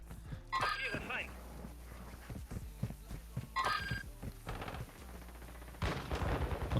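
Bursts of gunfire in the video game Warzone 2.0, sharp cracks and rapid volleys, repeating several times over a steady background hum, close and fairly loud.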